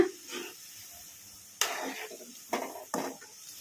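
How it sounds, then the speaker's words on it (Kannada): Cauliflower pakoras in hot oil give a faint hiss, broken by three sharp scraping stirs of a spatula through the frying batter. "ಕಾಲಿಫ್ಲವರ್ನ ಎಣ್ಣೆಗೆ ಹಾಕಿದ ಮೇಲೆ ಒಂದೆರಡು ನಿಮಿಷ ಹಾಗೆ ಬಿಟ್ಟು ಆಮೇಲೆ ಕಲಿಸ್ಕೊಂಬಿಡೋಣ"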